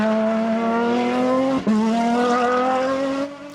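Race cars at Kirkistown circuit scream past at full throttle, a loud, high-revving engine note that climbs steadily, breaks for a quick gear change, then climbs again before fading away.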